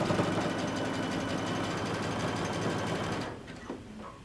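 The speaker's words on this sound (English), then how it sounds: "you're going to stitch this all the way down, stretching just a tad" A sewing machine zigzag-stitches elastic along the seam of a dress, running in a steady, fast, continuous whir up close for about three seconds before stopping, followed by faint handling noises.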